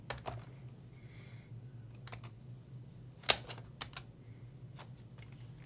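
Scattered keystrokes on a computer keyboard while entering a search in MetaStock 17 software, with sparse, irregular clicks and one sharper tap, close and fairly quiet with no talking.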